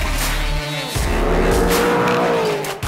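A 650-horsepower supercharged 2017 Corvette Z06 driven on a winding mountain highway, its engine loud and close, droning steadily and rising in pitch as it accelerates, with a brief dip in the rumble near the start.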